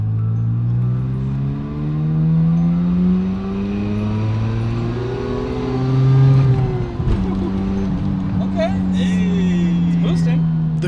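A turbocharged Mazda RX-7 accelerates under boost through several gears, its rotary engine note climbing loudly in pitch, dropping at each shift and rising again, heard from inside the car with occasional brief noises near the end.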